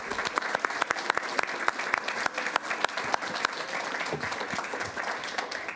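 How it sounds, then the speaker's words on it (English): An audience at a school district board meeting gives a sustained round of applause for the Teachers of the Year, dense, close clapping with sharp individual claps standing out. "If we could give all of our Teachers of the Year one more round of applause,"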